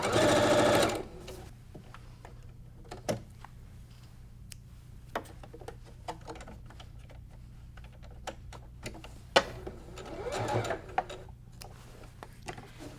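Back stitching on a quilt top with a sewing machine: a motor whir and needle clatter run throughout, with a louder burst at the start and scattered ticking clicks, moderately close and without speech.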